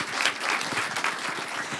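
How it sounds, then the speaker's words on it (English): An audience at a film festival keynote event claps warmly for a speaker, a brief, dense burst of applause heard throughout. "please give a big round of applause for Anna Bogatskaya"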